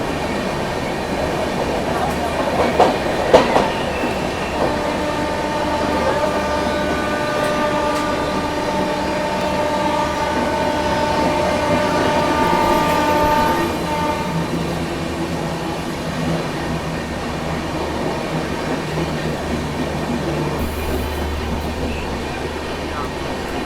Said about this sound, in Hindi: चलिए यहाँ पर अपनी गोवा संपर्क क्रांति ने दोस्तों ओवरटेक कर दिया है पंजाब मेल को।